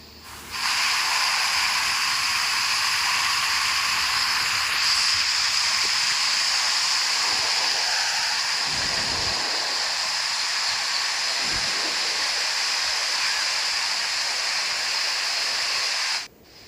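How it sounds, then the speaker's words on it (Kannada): Water gushes from a sluice of the KRS dam on the Kaveri river, a loud, continuous rushing hiss, steady and close, with a few low thumps and no voices. "ಮೇಲೆ ತೂಬಿಂದ ನೀರು ಬರ್ತಾ ಇರುವಂತಹ ಒಂದು ಪ್ಲೇಸ್ ಇದು"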